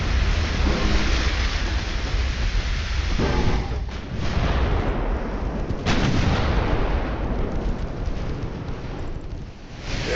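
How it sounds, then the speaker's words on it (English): A heavy torpedo detonation in the naval battle game Ultimate Admiral Dreadnoughts, a dense rumbling roar with a sharp burst partway through, loud and sustained like distant artillery, with no voices. "There goes torpedo detonation."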